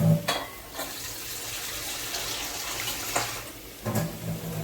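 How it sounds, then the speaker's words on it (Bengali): Water pours into a pan of cooked-down mustard paste, a steady splashing trickle that runs continuously with a few louder bursts at the start and end, close by and without voices. "এবার আমি এর মধ্যে একটু জল অ্যাড করব।"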